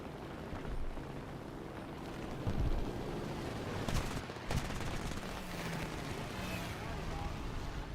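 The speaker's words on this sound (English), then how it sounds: "Warm up those 20mm cannons there, Hammer." 20mm aircraft cannons fire in bursts in the War Thunder video game, rapid rattling volleys rising over steady engine drone while a player talks intermittently throughout.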